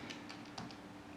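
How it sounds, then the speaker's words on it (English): Numbers tapped into a calculator: a few light, quick key clicks in an uneven rhythm, faint and close over a quiet background. "I'm actually typing it into my calculator right now to show you."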